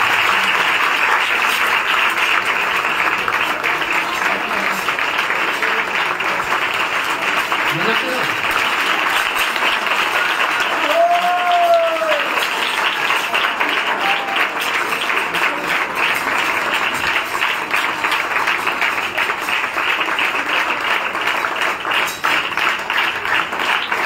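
A devotional Radhashtami festival program in Paharganj draws sustained audience applause, dense continuous clapping from a large crowd lasting throughout, with a faint voice briefly rising above it midway.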